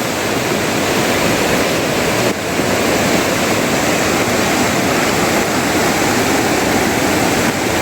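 Floodwater of a river swollen by heavy Konkan monsoon rain roars in a loud, continuous broadband rush, steady throughout with one brief dip, no voices present.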